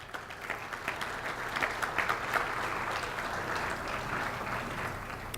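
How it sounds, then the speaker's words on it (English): Steady applause from a large audience, many hands clapping continuously at moderate volume throughout. "Once more, a big round of applause for Bill Foster."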